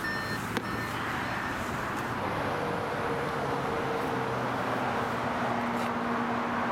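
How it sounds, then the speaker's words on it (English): An Audi Q5 S-Line Plus idles steadily after starting and being shifted into reverse with the handbrake on, giving a low, even engine hum. A faint steady warning tone sits over the hum and a single click sounds early on. "I'm going to start it up. I'm going to put it in reverse."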